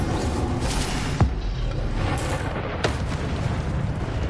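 Incendio fire spell cast in Hogwarts Legacy, a steady rushing roar of flame with a couple of sharp crackling bursts, loud and close throughout, with no speech.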